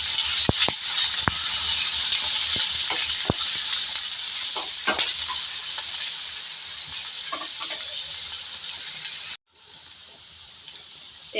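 Chopped onions fry with a steady loud sizzle in a pan for a Vinayagar Chathurthi kozhukattai dish, with scraping stirs and clicks of the spoon throughout. Near the end the sizzle suddenly drops quieter.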